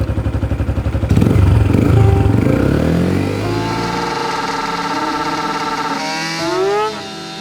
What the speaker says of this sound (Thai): จะลากเกียร์ทำไมเนี่ยเฮ้ย เปลี่ยนเกียร์ดีๆดิ